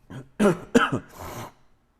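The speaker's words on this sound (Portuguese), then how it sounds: "Tem um pigarro na garganta aqui que fica me incomodando." A man with an allergy clears his throat twice in quick rasping bursts, then gives a softer, longer throat rumble, close and fairly loud with no talk.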